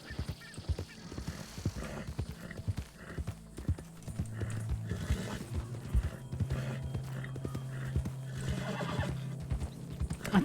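Hooves clip-clop steadily up close, and a horse gives a drawn-out whinny midway, with low rumbling ambience underneath, in the video game Red Dead Redemption 2 online roleplay.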